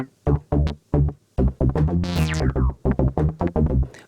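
A Roland Jupiter-8 synthesizer arpeggio with a bass voice plays a steady run of short, punchy notes, with a bright resonant filter sweep rising in the middle. It sounds close and loud, with no talking over it.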